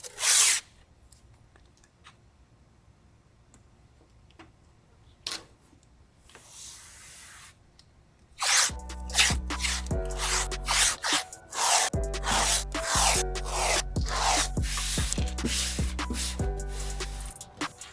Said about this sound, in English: we're gonna do a little bit of masking to help protect from all the shavings that we're about to be dropping